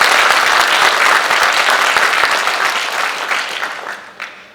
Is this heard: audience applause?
yes